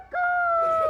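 A voice imitates a rooster's crow at a street performer's comedy show, one sustained, steady, slightly wavering call lasting under a second, close and fairly loud.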